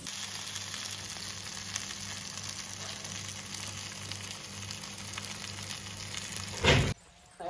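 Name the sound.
mackerel (bangude) frying in a pan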